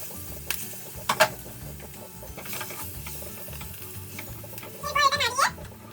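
Chopped green chillies frying in melted butter: a soft, continuous sizzle with occasional utensil taps and scrapes, with a brief rattling clatter near the end and no voices.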